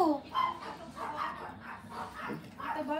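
Newborn puppy whimpering in short, high, thin cries that rise and fall several times, close and fairly faint, with soft room noise around.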